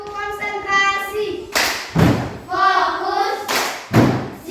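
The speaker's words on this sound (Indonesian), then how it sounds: "Tepuk konsentrasi." A group runs through the "tepuk konsentrasi" clapping routine in a classroom, with loud, distinct hand claps and thumps falling in a rhythmic pattern between voices chanting and talking.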